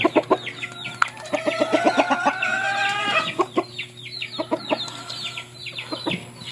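Backyard chickens flock around their feed, clucking busily with a few louder calls and crowing-like notes over a steady low hum, close and lively throughout.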